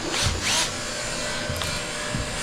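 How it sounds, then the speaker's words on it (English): A power drill fitted with an 11/32 bit bores holes into a Big Block 727 Torqueflite transmission being modified for a trans brake. The motor whines in brief, close bursts over a steady mechanical hum. "Why am I drilling holes now?"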